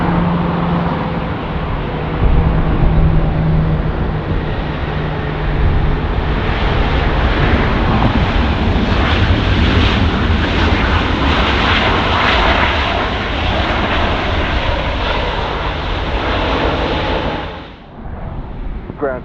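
A Virgin heavy airliner landing on runway 24 right at Los Angeles International Airport: a loud, steady jet engine roar that swells gradually, holds for many seconds, then drops off sharply near the end, heard without talk.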